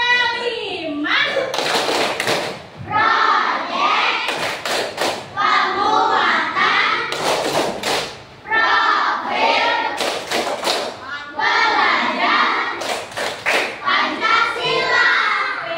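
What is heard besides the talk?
group of children clapping hands in rhythm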